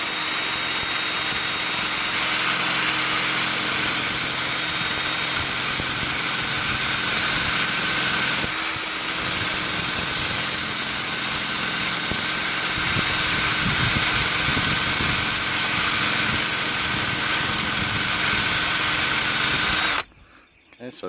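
An 80-grit flap wheel grinds and polishes an axe head, a steady loud abrasive whir with a motor hum running nearly continuously, cutting off abruptly near the end.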